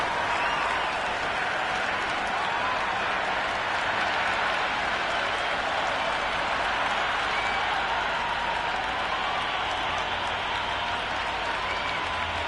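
Roaring cheers and applause from a simulated cricket stadium crowd in a PlayStation game, Sydney Thunder against Hobart Hurricanes. The sound is a steady, dense wall of crowd noise that holds throughout with no clear breaks.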